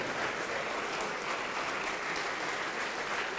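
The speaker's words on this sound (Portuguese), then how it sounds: "E vamos aplaudir ao Senhor por cada vida que está chegando." A church congregation claps steadily together, a dense, even wash of applause from a large crowd sustained throughout without pause.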